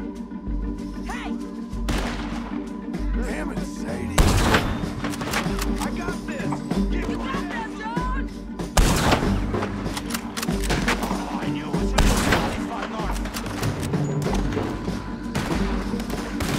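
Gunfire in the video game Red Dead Redemption 2, repeated heavy gunshots and thuds at irregular intervals over a dense rumbling background, loud and close.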